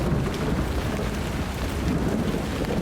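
Steady heavy rain pours down with a low, rolling rumble of thunder underneath, a continuous storm ambience with no voices.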